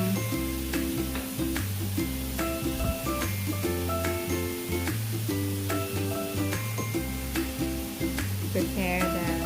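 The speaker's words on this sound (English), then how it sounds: "So while it's frying" Prosciutto-wrapped chicken fries in a pan with a steady sizzle, largely under loud background music with a repeating beat.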